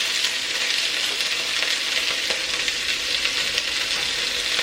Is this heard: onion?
yes